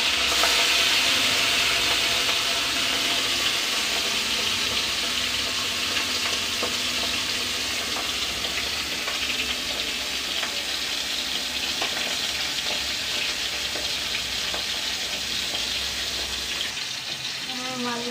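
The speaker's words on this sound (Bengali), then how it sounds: "মাছগুলোকে লাল করে ভেজে নেব" Fish frying in oil in a wok (kadai), a steady dense sizzle and crackle running close and loud throughout, with a brief change near the end.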